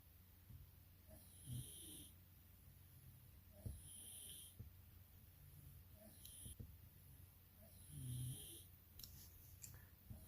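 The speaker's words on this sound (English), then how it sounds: "My daughter's snoring is getting so loud." A daughter snoring in a quiet room: slow, recurring snores about every two to three seconds, each a low rasping inhale with a faint whistle on top, close and fairly soft, no talking.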